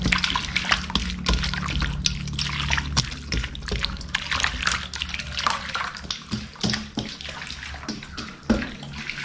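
Sesame oil poured into a Thai-style meat marinade along with ground pepper, giving a steady liquid trickle and splash close by, continuous for several seconds with faint kitchen handling noise.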